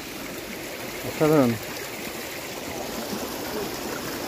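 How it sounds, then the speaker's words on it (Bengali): The Upper Ghagri waterfall stream at Netarhat runs as a steady, full rush of flowing water close by, with a single short spoken exclamation briefly rising over it. "জলটা এখান থেকে সোজা বয়ে চলে যাচ্ছে, অপূর্ব লাগছে।"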